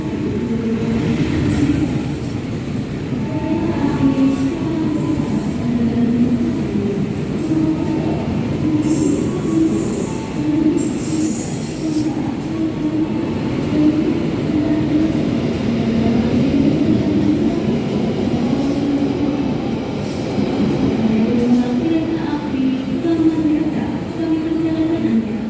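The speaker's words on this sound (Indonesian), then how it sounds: "Sepertinya ini kereta api Kamandaka yang dari Cilacap tujuan Semarang ya teman-teman" The Kamandaka passenger train, running from Cilacap to Semarang, rolls past on the railway, loud and close, with a steady rumble of wheels on rails and intermittent high squeals from the wheels throughout.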